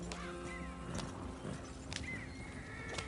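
Horse hooves in the video game Red Dead Redemption 2 clip-clop at a steady walking pace, quiet, with a couple of snorting whinnies mixed in.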